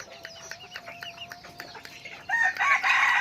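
A young rooster crows in a thin, short, slightly strained call, close by, with the crow rising louder toward the end.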